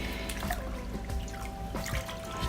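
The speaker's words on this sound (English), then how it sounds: "I'm squeezing the apple cider vinegar solution so it penetrates the lock" Hands squeeze an apple cider vinegar solution through locs of hair in a soak, producing a steady close wet squelching and trickling with dripping liquid throughout, no voices.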